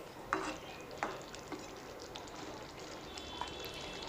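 Boiled giant taro (maan kochu) and prawns are stirred together in a pan, with a few soft scraping knocks from the spoon over a low, quiet sizzle.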